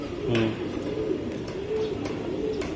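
Racing Giribaz pigeons coo close by in soft, repeated low rolling phrases over a faint steady background, with no talking.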